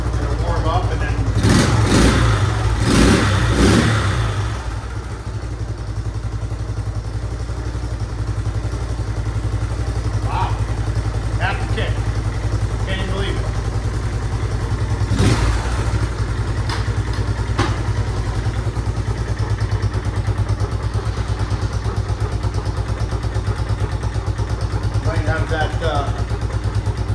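A 1972 Honda XL 250 motorcycle, freshly carb-rebuilt, idles with a steady engine drone and a few quick revs early on, while someone talks over it throughout.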